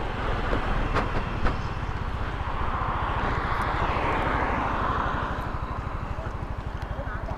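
Yamaha 125 automatic motorcycle riding along a road, a steady loud engine drone mixed with broad wind rush, constant throughout with no talk.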